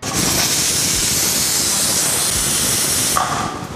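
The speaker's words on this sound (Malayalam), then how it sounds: "അപ്പോൾ ഈ ഒരു വിസിലോടുകൂടി നമ്മുടെ ചിക്കൻ ബിരിയാണി, അതായത് കുക്കർ ചിക്കൻ ബിരിയാണി റെഡി ആയി കഴിഞ്ഞു." A pressure cooker cooking chicken biryani releases a loud, sustained hissing steam whistle, close and continuous for over three seconds before cutting off abruptly.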